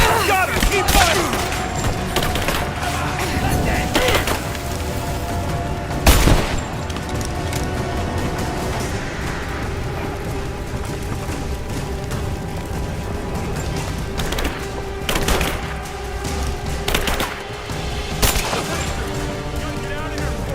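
Gunfire in the Rise of the Tomb Raider video game: sharp rifle and automatic bursts crack out repeatedly across a continuous game soundscape, some shots loud and close, others further off, with a heavy boom midway.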